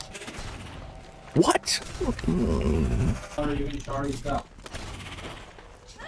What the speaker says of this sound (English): Accuracy on these guns are really bad.